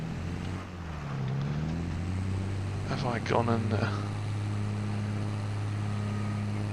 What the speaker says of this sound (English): See if we can just get the tractor out of this mess.